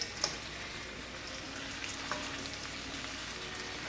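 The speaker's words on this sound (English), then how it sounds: "Okay, give this a quick stir." Frozen, unthawed broccoli and noodles in a hot pan give a steady low sizzle with a couple of faint scrapes from a quick stir, close and quiet with no talking.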